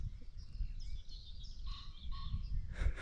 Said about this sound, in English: right on cue, I didn't pay that pheasant to do that, but all you can hear is birds and nature